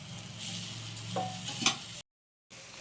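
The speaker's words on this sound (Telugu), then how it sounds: "ఇంకో సైడ్ కూడా కొంచెం ఆయిల్ వేసుకొని ఇలా కాల్చేసుకుందాం." Ragi flour flatbread sizzling in oil on a pan, a soft, steady close-up fry with a brief scrape or stir partway through, then a short silent gap before the sizzle resumes.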